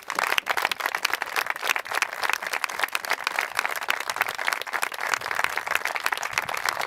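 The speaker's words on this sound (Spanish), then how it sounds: "Creo que el aplauso tiene lo más que merecido." Applause at an outdoor tribute to victims of Francoism in Campu Casu, Asturias: dense, steady clapping from a crowd, sustained without pause and fairly loud throughout.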